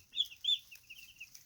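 High, thin chirping calls from young Cornish Rock meat chicks, a few louder peeps followed by softer, rapid cheeps, fairly close with no talking.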